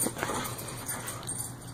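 A puppy whimpers and whines softly, a brief faint cry up close against low background noise.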